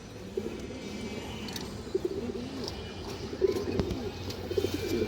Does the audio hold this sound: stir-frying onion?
no